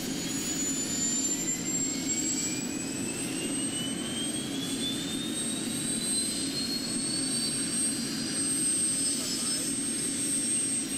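A steady, droning turbine roar with a high whine that slowly rises in pitch, constant and close, from inside a helicopter in flight toward St. Stephen's Cathedral.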